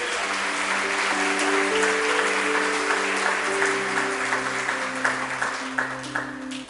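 A church congregation applauds during a sermon, a sustained wash of clapping with music or sustained tones running beneath it, thinning out toward the close.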